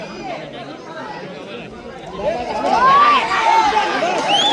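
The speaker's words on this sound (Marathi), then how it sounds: "प्रेक्षकांमधून एकच जल्लोष" Spectators at a village kabaddi match cheer and roar together, the crowd noise swelling from steady chatter to a louder burst of shouts halfway through, with scattered whoops rising above the din.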